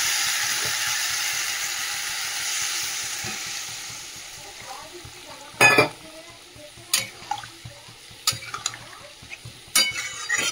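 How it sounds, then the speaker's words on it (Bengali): Fried curry spices sizzle steadily in hot oil in a home kitchen, then water poured into the pan sets off several sharp, loud hissing bursts over the ongoing frying. "মশলাটা যে কষানো হয়ে গেছে, তেলে ছেড়ে গেছে, আর জল দিয়ে দেবো ঝোলে"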